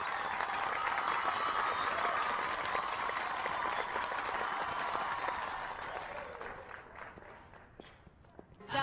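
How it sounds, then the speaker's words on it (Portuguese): Birthday party guests clap for Alicia and her father Fernando Lascurain dancing together: a dense, steady round of applause that thins and fades toward the end. "Aplausos, por favor."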